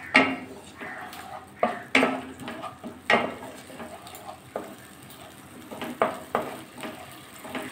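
Bitter gourd cooking with spices and water in a pan, stirred with a utensil: irregular clanks and scrapes against the pan over a faint background hiss, close and moderately loud.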